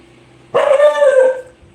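Dog outside a house giving one close, loud, drawn-out bark that turns into a whining yelp, heard alone after a quiet moment.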